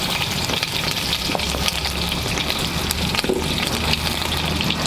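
Mixed vegetables with sweet potato and potato fry in a pan, a dense continuous sizzle and bubbling close at hand with occasional soft stirring rustles.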